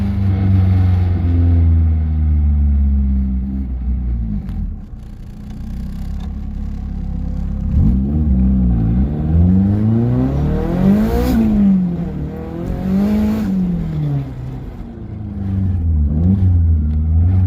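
A Mazda RX-7 turbo rotary engine accelerating under boost, loud and close, with repeated rising and falling engine pitch sweeps as it revs up through gears.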